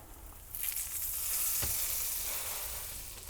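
Grilled cheese sandwich sizzling in a pan, the frying hiss swelling as it is flipped, with one soft thump of the turn midway, close and steady, no voices.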